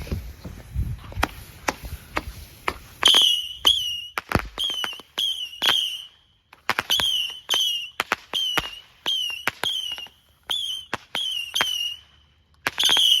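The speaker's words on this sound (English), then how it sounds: "we're gonna do this Saturn missile and this color pull at the same time" Saturn missile and color pull fireworks fire together outdoors, launching a rapid irregular series of sharp cracks and whistling pops, each burst followed by a short shrill whistle, continuing in clusters for several seconds.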